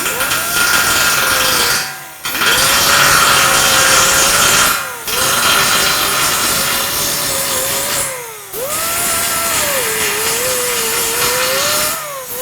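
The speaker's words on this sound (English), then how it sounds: "you start with a bigger tool like this and kind of start grinding that" Power grinding tool working down a raised weld in a metal studio, a loud continuous whine broken into three or four long passes with brief pauses as the tool lifts off.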